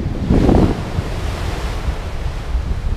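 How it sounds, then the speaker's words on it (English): Strong wind buffeting the microphone outdoors, a loud low roar that bursts hardest in the first second and then keeps rumbling steadily, with a surf-like wash under it. "Too much wind!"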